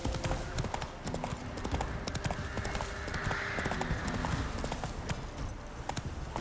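Roach, a horse in The Witcher 3 video game, gallops with rapid, rhythmic clip-clop hoofbeats, close and steady, against a soft game ambience.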